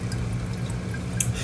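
Water from a 40 W laser engraver's cooling tube trickles and splashes back into its tank, a steady close liquid pour with small drips and a faint low hum beneath.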